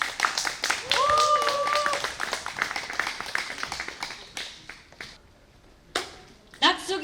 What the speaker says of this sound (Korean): 여러분 뜨거운 박수 주시죠